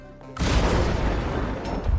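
A sudden loud micro explosion in a video game, a dense booming burst that sustains as a roar for under two seconds.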